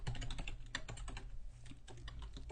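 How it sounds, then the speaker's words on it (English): A computer keyboard clatters with fast, irregular keystrokes, close and fairly quiet, with no voices over it. "Let's type calendar year,"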